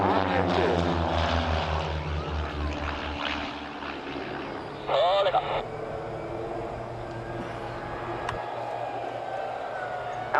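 Two Vans RV8 light aircraft run in together at the 2015 Abington Air and Country Show, a steady propeller-engine drone with shifting pitch as they pass, loud and sustained over ten seconds, with a brief higher whine midway and a commentator talking over the top.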